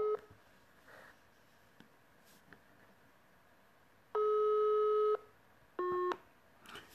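A telephone busy tone sounds after a dropped call: a faint low tone is followed by two loud, steady beeps, the first about a second long and the second shorter, with quiet line noise between them.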